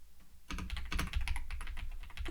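A computer keyboard clatters with quick, close key presses in a steady run of typing, ending with the Enter key.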